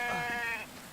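A single sheep bleats in The Infected video game, one wavering, nasal baa under a second long, fairly close and clear with no talk over it.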